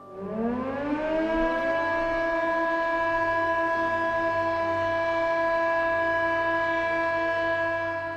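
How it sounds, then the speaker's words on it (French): A French civil defense siren, the kind tested every Wednesday, winds up over the first second to a loud, steady wailing tone, holding its pitch for the rest of the clip with no voices. "Donc vous allez entendre la sirène nucléaire"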